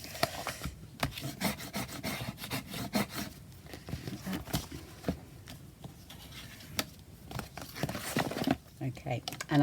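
Tape being burnished onto a paper junk journal folio, soft close rubbing and crinkling strokes in quick repeated bursts, under someone talking throughout.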